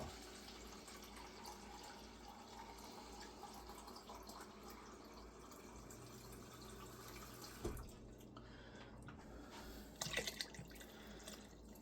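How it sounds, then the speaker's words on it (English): Regular tap water is poured into a slow cooker, a faint, steady trickle and splash with a few soft drips and clunks near the end. "we're going to top it off with 2 cups of just regular tap water"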